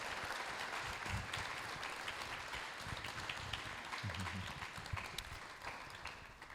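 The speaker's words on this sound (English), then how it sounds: "I would like to give a round of applause to our panelists here." A crowd applauds the panelists at an environment conference, continuous clapping that runs on and tapers slightly toward the end, with a few brief voices murmuring underneath.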